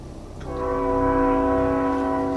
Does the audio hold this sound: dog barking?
no